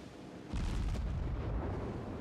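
The cruiser Cleveland's guns fire in World of Warships, a heavy boom that erupts abruptly and rumbles on as a sustained low roar.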